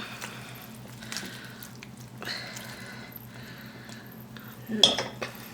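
Cut lemon pieces dropped into a pan for Kerala-style lemon pickle, giving faint clinks, scrapes and soft stirring sounds under a low kitchen hum, with one sharper clatter near the end.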